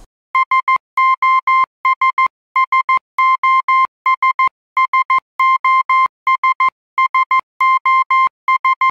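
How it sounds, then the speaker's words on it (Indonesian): SOS distress signal tapped out in Morse code as a steady, loud electronic tone, repeating groups of short and long beeps in a regular rhythm, clean and alone. "Jadi sinyal SOS itu merupakan sinyal Morse code."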